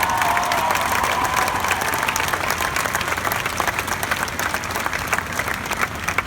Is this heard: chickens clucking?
no